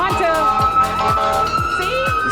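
An emergency vehicle siren sounds in downtown Brampton, a loud rapid warbling wail rising and falling continuously, with someone talking over it.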